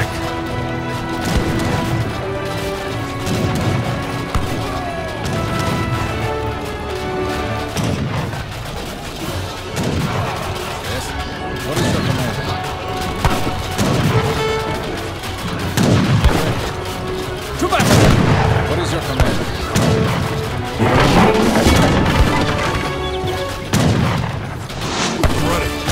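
Black powder wagon and battle explosions at a weapons cache in Age of Empires III, a dense run of booms, gunfire cracks and crashes over game music, growing louder toward the end.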